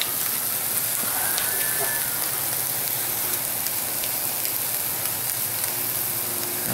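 Bacon sizzles steadily on a 17-inch Blackstone propane griddle, a dense, even crackling hiss with scattered pops that carries on without a break from start to finish.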